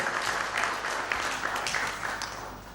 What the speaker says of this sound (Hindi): आपकी तालियों की आवाज भी जबरदस्त तरीके से प्रोत्साहित करेगी